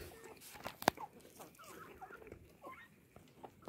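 A Kadaknath hen gives a few soft clucks and one sharper squawk, fairly close, against quiet outdoor background.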